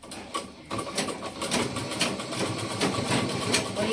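A sewing machine runs steadily, stitching a saree border, with a rapid continuous mechanical whirr and rhythmic needle clatter that speeds up after a brief pause near the start.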